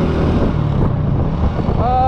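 A Honda Win motorcycle's engine and exhaust give a steady low, rumbling drone close to the microphone, with wind noise over it.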